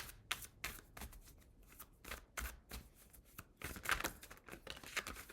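Tarot cards being shuffled by hand, a close run of crisp riffling and flicking bursts with brief gaps, quiet and without talk.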